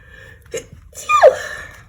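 A single sharp sneeze bursts out near the mic, with a quick intake and then a squeaky vocal tail, over a quiet room.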